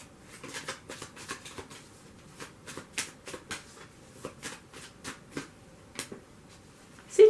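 Tarot cards are shuffled and drawn by hand, making a quick series of close, crisp flicks and snaps in an irregular rhythm against a quiet background.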